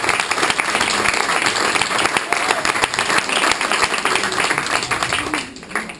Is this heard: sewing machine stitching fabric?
no